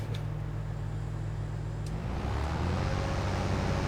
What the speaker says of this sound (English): Let's start the engine first.